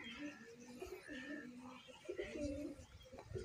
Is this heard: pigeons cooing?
yes